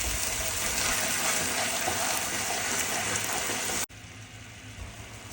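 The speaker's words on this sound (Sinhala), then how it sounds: "මම ඒකට වතුර තේ හැඳි 4ක් විතර එකතු කරගෙන හොඳට කලවම් කරගන්නවා" A few spoonfuls of water splash into a hot pan with a loud, steady hiss that suddenly cuts off and leaves a quieter simmering sizzle.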